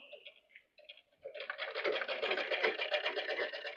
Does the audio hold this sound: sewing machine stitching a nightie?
yes